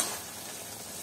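Okra curry (bhindi chorchori) cooking in a pan, a faint, even sizzle and hiss heard close by without any talking.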